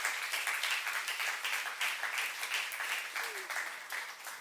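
A church youth congregation during a sermon claps together, a fairly faint, steady patter of many hands with a slight rhythmic pulse and no talking over it.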